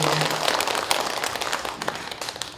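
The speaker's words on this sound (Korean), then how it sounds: "축하 겸 큰 박수 보내주시면 감사하겠습니다" Audience applause at a poetry recital welcoming a new chairperson: dense, steady clapping from a crowd filling the whole stretch, fairly close and even in level.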